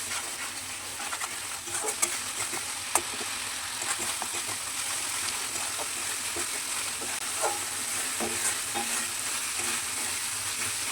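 Spice paste for garlic chicken gravy fries in a pan with a steady, moderately quiet sizzle. Scattered clicks and scrapes from stirring are heard up close throughout.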